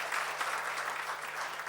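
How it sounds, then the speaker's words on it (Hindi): An audience at an event honoring a UPSC exam topper gives faint, steady applause, a dense patter of many hands with no breaks. "एक बार फिर से तालियां बजाएं के लिए।"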